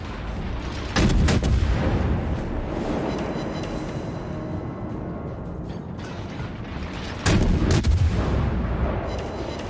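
Ship guns fire in World of Warships from a Tier 8 Cleveland cruiser, a steady roll of battle noise broken by two loud, booming salvos spaced several seconds apart.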